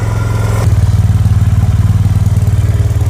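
A Honda CB350RS motorcycle idles after a cold start on a cold winter day. The engine thumps in a steady, close, loud rhythm that grows fuller and louder after the first half second.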